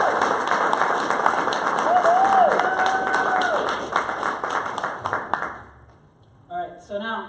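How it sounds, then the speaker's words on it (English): Audience at a Builderall Everest event in Memphis claps hands in a full, steady burst of applause under music, tapering off over several seconds before a voice speaks near the end. "clap your hands, please."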